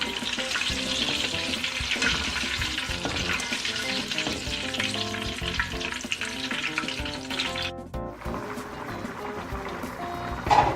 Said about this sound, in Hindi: मिर्चें फ्राई हो रही हैं, इनको भी निकाल लेते हैं।